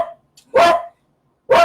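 A dog barks loudly and close by, two sharp separate barks about a second apart, with a brief fainter sound just before the first.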